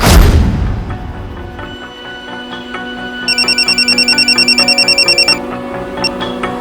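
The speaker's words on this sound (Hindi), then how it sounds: "हाँ, करीब 2:45 बजे उसका फ़ोन आया था साहब" An electronic phone ringtone signals an incoming call in a crime drama, a loud run of rapid repeating beeps over a low humming music bed, ending with a single short chirp.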